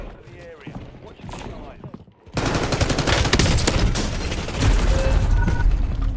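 Rapid, loud bursts of automatic gunfire from a Kilo 141 rifle in a first-person shooter game, dense cracking volleys following an opening stretch of talk and game sounds, with voices speaking over parts of it.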